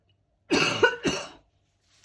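Two quick, harsh coughs in close succession, near and fairly loud, surrounded by silence.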